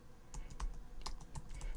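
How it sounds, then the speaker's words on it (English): Quick, soft clicks of typing on a computer keyboard, several keystrokes in an uneven rhythm, close and quiet. "Now start typing prefetch"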